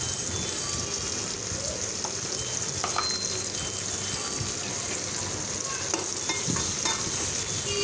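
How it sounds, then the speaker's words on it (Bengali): Chopped onions fry in hot oil in a wok, a steady, dense sizzle with occasional stirring scrapes and clinks, close and constant throughout. "ওই তেলের মধ্যেই আমি পেঁয়াজ কুচি দিয়ে নিলাম"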